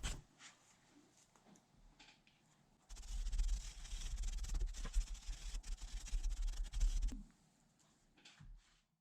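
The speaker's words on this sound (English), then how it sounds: "Now I give the brackets a quick clean with a soft brush and then a hard brush for the more stubborn dirt." Soft and hard brushes scrub dirt off the brackets of an Axial Bomber 2.0 RC vehicle, a close, steady rubbing and scratching burst lasting about four seconds amid quiet handling noises.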